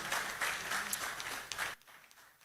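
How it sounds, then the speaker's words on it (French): Audience applause at the unveiling ceremony for the Cameroon national football team's new jersey, a dense wash of clapping from a crowd that cuts off abruptly near the end, leaving quieter room tone. "Je pense que ça mérite des applaudissements."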